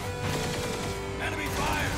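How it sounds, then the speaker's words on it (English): Rapid gunfire from enemies in the action shooter Vanquish, dense overlapping shots and bursts filling the scene with constant loud combat noise, a voice calling out over it. "Enemy fire!"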